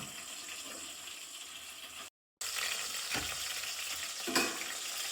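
A Gujarati stuffed dish roasts in a covered pan, giving a steady, moderate sizzle and hiss throughout, broken by a brief silent gap and a couple of soft clinks or lid touches.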